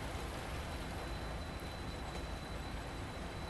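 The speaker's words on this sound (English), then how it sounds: "Look how fast that freight train's moving." A steady, dense rumble of a freight train in a train simulator video game rolling past, continuous and fairly loud with no voices.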